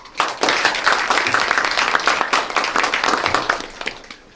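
An audience at a youth business association forum in Dangjin gives Mayor Oh Seong-hwan a sustained round of applause, the clapping full and steady for several seconds before tapering off.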